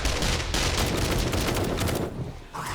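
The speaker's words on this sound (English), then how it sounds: "I can't hear you over the gunfire." Heavy, continuous gunfire during a zombie horde fight in the video game 7 Days to Die, a loud, unbroken barrage of rapid shots with a brief dip near the end.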